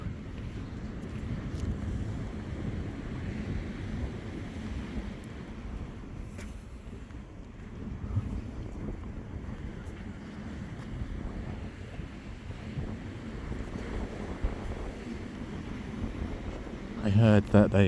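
Strong wind roars across the microphone on a very windy beach walk along the Hemsby coast in winter, with surf rumbling steadily underneath. A heavier gust thumps in at the very end.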